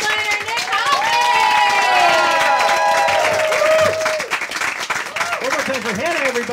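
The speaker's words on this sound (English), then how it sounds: "Everyone start clapping right now for your headliner," A comedy club audience claps and cheers for the headliner of a stand-up special, loud sustained applause with whoops rising over it, while a comedian talks over the crowd.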